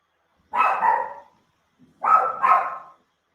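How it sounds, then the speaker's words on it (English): Two barks from a single dog, each a double-pulsed woof, separated by a short pause in an otherwise quiet room. "Sorry, that's my dog barking."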